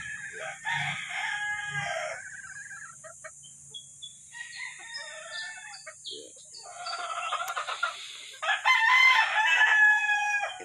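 Several roosters crow in turn, some near and some farther off, with scattered hen clucks between the calls, on a gamefowl farm.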